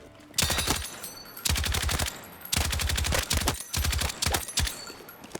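Automatic gunfire in the video game Battlefield 6: four or five close, loud bursts of rapid shots, each about half a second to a second long, separated by brief pauses.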